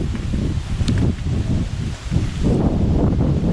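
Strong gusts of wind roar and buffet against the microphone in uneven surges, with some rustling mixed in and no talking.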